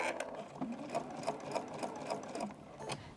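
A sewing machine fitted with a walking foot stitches across a quilt-as-you-go scrap placemat, a steady rapid whir with a rhythmic mechanical pulse, close and continuous.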